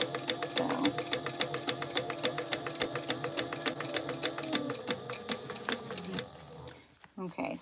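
A sewing machine stitches fabric in a fast, even run of sharp mechanical ticks for about six seconds, then stops with a few softer handling clatters afterward.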